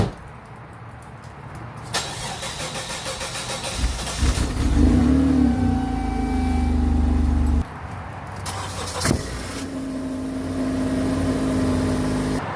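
A car engine cold-starts with a sharp crank and catch, then revs loudly a few times and settles into a steady fast idle. After a brief cut it starts again and holds a high idle.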